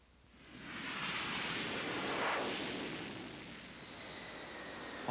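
An F-4 Phantom II jet flies overhead as a fighter escort in the air war over Vietnam: a broad, steady roar that swells to a peak near the middle and then eases slightly, heard alone with no talking.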